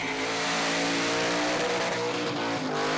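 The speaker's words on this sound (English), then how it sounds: "This is a stout burnout." Car doing a stout burnout at Summernats, with loud sustained engine roar and revving plus tire squeal and skidding running continuously throughout, close and unbroken.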